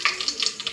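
Curry leaves dropped into hot oil crackle and sizzle loudly up close, a busy burst of sharp pops and hiss during brief stirring.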